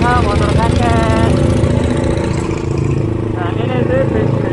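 A BSA motorcycle engine idles with a steady, rumbling throb close by, running continuously beneath someone talking.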